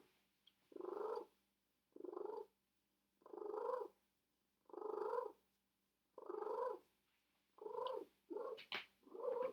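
A cat purrs loudly and close by in regular, throaty bursts about a second long, rising and falling with each breath, almost like cooing.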